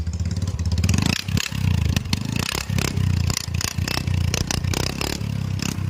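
A Honda Activa 125 scooter with a broken silencer idles and revs close by, giving a loud, uneven thumping exhaust like a Bullet motorcycle, with rattling clatter and brief dips between revs.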